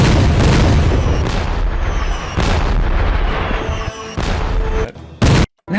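Dense, continuous artillery fire and booming cannon blasts roar from a played battle video, loud and overlapping with barely a pause, cutting out abruptly near the end.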